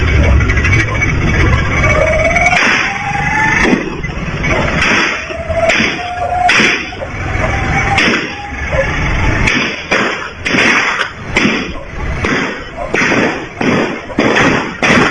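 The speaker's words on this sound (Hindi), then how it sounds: "46 गोलियों की आवाज मैं आपको सुनवाने जा रहा हूं।" A rapid series of 46 gunshots fires one after another, each a sharp, loud, broadband crack with thuds, spaced irregularly across the whole stretch.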